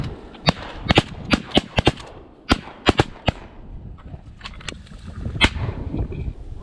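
Shotgun blasts on a windy duck hunt: a rapid volley of about ten sharp, loud shots in the first three and a half seconds, then a lone shot near the end, over steady wind rumble.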